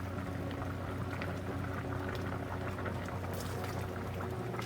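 Canned corn is tipped into a simmering neck-bone soup, a steady wet bubbling and splashing close by with no talking.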